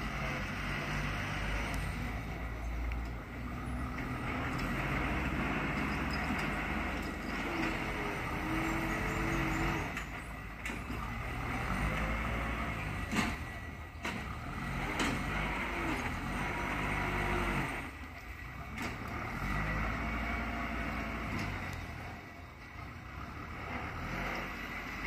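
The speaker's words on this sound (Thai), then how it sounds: "อันนี้รถแท็กเตอร์นะใช้รถแท็กเตอร" Kubota tractor engine running while grading grass and pushing topsoil outdoors, a continuous diesel drone that rises and falls as the machine works, fairly steady and close with no talk.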